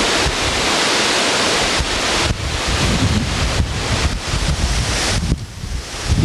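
Wind from Hurricane Bob roars against the microphone with surf crashing nearby, loud and continuous with gusting swells for the full span, and no voices.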